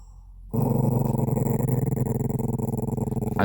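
A dog growls close by in a sustained, pulsing rumble that begins abruptly after a moment of quiet and keeps throbbing in steady rhythmic waves, with no talking.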